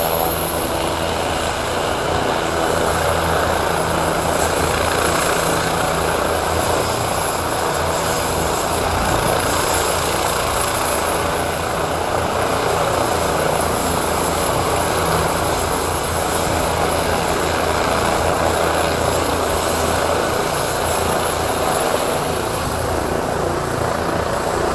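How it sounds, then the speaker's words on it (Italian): Air ambulance helicopter lifting off at an accident scene near a stream, its rotor and turbine roaring loud and close in a steady, unbroken wash throughout. "Pochi istanti e l'elicottero decolla sotto i nostri occhi."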